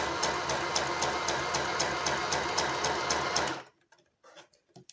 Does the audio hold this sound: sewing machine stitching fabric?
yes